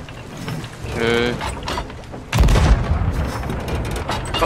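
Cannon fire from a ship in the pirate video game Sea of Thieves: a muffled blast at the midpoint followed by a loud, booming impact with rumbling debris, set against steady game ambience.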